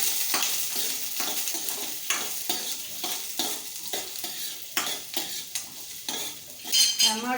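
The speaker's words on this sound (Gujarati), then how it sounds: "તેલ ગરમ થયું છે, હવે આપણે આ ડુંગળી નાખી દઈશું।" Sliced onion hits hot oil and sizzles while a utensil stirs it for a pocket pizza filling, with repeated close scraping strokes over the steady frying hiss.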